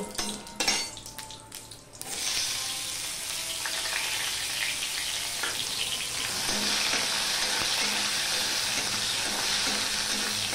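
Chopped tomato tipped into hot oil seasoned with panch phoron for a vegetarian snake gourd curry: a few utensil clinks, then a loud, steady close sizzle that lasts to the end.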